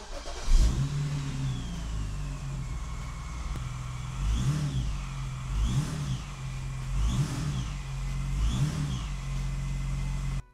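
A BMW E9X engine is revved repeatedly while idling to check motor mount movement, producing four rising and falling revs over a steady idle rumble, close and fairly loud.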